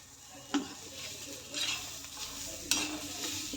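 A pithla mixture with onion roasts on an iron tava, sizzling softly while a spoon stirs and scrapes against the pan, with a couple of sharper metallic knocks.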